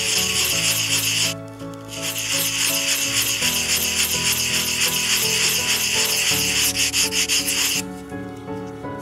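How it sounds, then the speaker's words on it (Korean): A miniature bowl is hand-sanded with the coarse 220-grit side of a sanding stick, making steady, close, repeated scratchy rubbing strokes over a sustained tonal background. "굵은 면 220번 써져 있는 그쪽으로 해서 다듬는데 항상 순서는 윗면, 아랫면 이 면을 처리해 주시면 돼요"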